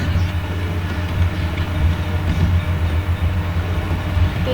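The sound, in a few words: train passing in the video game GTA 5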